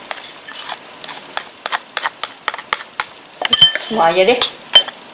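A spoon clinks and scrapes against a bowl while stirring siomay mixture seasoned with salt, stock powder and pepper, giving a string of sharp, regular taps. It grows busier toward the end, and a voice speaks briefly.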